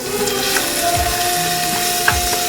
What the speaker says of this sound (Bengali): রসুন বাটাটা একটু ভালো করে ভেজে নিচ্ছে